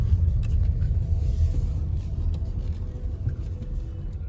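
A car idles or rolls slowly near a summer cottage in a Finnish forest, giving a low, steady engine rumble that stays close and continuous, with no talk.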